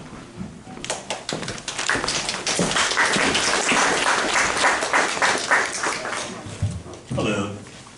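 Audience applause at a community association's October meeting as a candidate is invited up, a burst of clapping that swells, holds, then thins out, with a voice briefly heard near the end.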